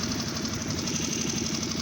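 A 2021 Hangkai F6.5 four-stroke outboard engine runs with a rapid, rough, knocking putter and a buzzing whine above it, close and steady with no talk.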